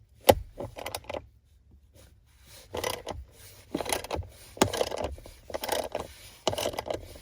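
Small ratchet clicks and scraping as two bolts holding a Tesla Model 3 display to the dashboard are removed, close and intermittent in short bursts with no talk.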